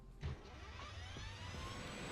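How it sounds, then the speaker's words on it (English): A truck engine drones on steadily while driving, a low, continuous rumble close by inside the cab, with a slight rise in pitch as it goes. "the sound of the truck is"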